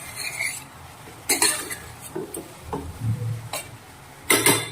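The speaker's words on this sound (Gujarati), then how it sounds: "અને સારી રીતે આપણે એને મિક્સ કરી દઈશું।" Batata poha, a flattened rice and potato mixture with a little added water, is stirred in a pressure cooker: a spoon scrapes and clinks against the metal pot in scattered, sharp bursts with quiet gaps between them.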